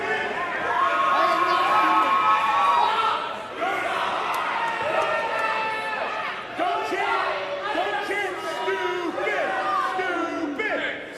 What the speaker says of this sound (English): the crowd here is just going wild on XS right now